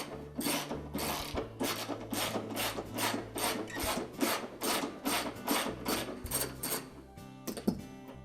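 A ratchet wrench loosens a roughly 13 mm bolt on the front damper of a Whirlpool washer, with a steady run of rapid, close ratcheting clicks in repeated strokes, then a few clanks at the end.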